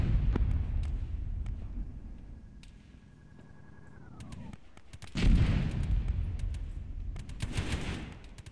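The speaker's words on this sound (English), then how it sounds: "Anybody get hit by those mortars?" Mortar rounds thump and crash in a video game firefight, a few heavy low impacts after a quieter stretch with a falling electronic tone, the blasts rumbling loudly near the middle and again toward the end.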